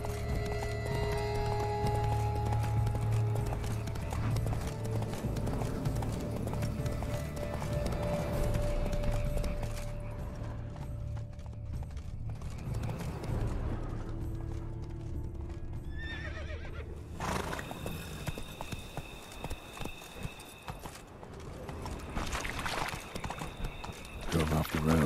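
Geralt's horse Roach galloping in The Witcher 3, hooves clip-clopping steadily with neighs, while voices speak over the hoofbeats.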